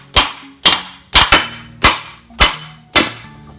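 A steel medieval helmet half is hammered into shape with about seven loud, sharp metallic blows, each ringing briefly and close, spaced roughly half a second apart with one quick double strike.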